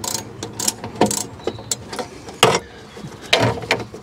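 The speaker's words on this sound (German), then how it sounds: "So, als nächstes müssen wir hier den originalen Lufteinlass abschrauben." A ratchet wrench unscrews the original air intake on a Fiat Ducato van, giving sharp, irregular metallic clicks and short ratcheting bursts close to the microphone, with no talking.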